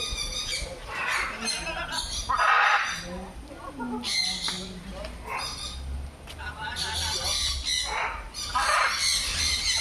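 Birds squawking loudly at a fish theme park in Sawantwadi, harsh repeated calls in bursts over the clip, with people talking nearby throughout.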